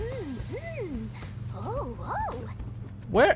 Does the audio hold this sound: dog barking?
yes